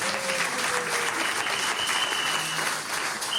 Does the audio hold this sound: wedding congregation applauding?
yes